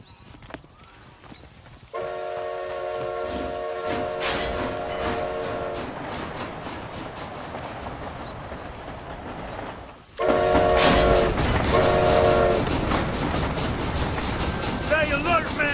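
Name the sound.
train running in Red Dead Redemption video game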